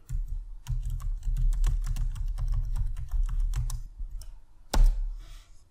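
Fast typing on a computer keyboard for a browser search, a close, steady rattle of key presses that pauses briefly before a single louder final keystroke.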